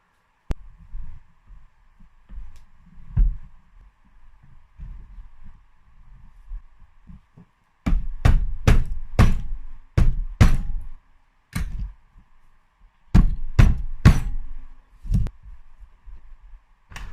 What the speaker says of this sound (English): So let's push this case on now.